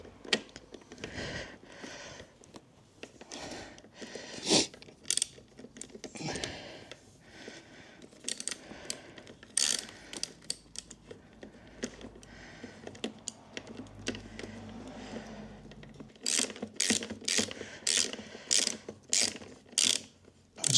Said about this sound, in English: Using a 14mm extended socket, then you can do the nut up.